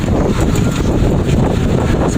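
Strong wind buffets the microphone while riding in a moving vehicle, a loud continuous rushing roar with no speech.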